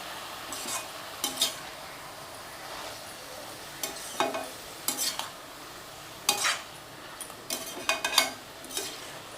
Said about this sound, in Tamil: இப்போ சேர்த்து இதை நல்லா வதக்கி கொடுத்துடலாம்